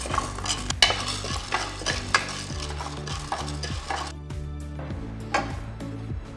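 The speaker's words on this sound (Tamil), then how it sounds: "கடலப்பருப்பு அதுவும் பொன்னிறமாக வறுக்க வேண்டும்" Dry rattling and scraping as chana dal (split chickpea lentils) is stirred and roasted golden in a pan, with a low hum underneath and no talking.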